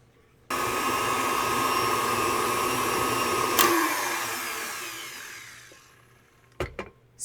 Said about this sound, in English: Now I'm going to add the sifted powdered sugar to my stand mixer bowl and mix until it's smooth and creamy.